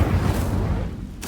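A loud, low, rumbling burst of a fire spell being cast in Hogwarts Legacy fills a short moment, ending with a sharp crack.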